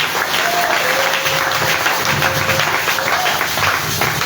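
Congregation applauding steadily through a church service, a dense wash of clapping from many hands that holds at an even level throughout, with a faint sung or sustained tone running beneath it.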